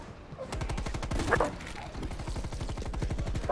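Rapid, dense gunfire rattles steadily in a video game, with dogs barking mixed into the loud, continuous bursts close up.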